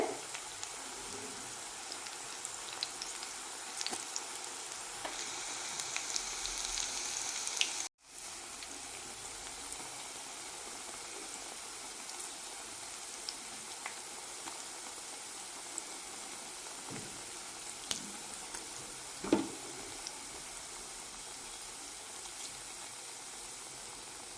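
Onion pakoda fritters frying in oil over a low flame, a soft steady sizzle and faint bubbling with a few small crackles, close by and continuous with no talking.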